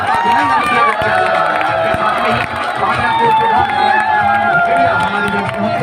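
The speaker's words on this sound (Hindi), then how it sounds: "हम अपने स्थान पे खड़े होकर के जोरदार तालियों के साथ आपका अभिनंदन किया जाता है" Dense, loud applause and crowd noise fill a school annual function as the audience stands to welcome guests. The clapping is continuous and mixed with cheering and voices.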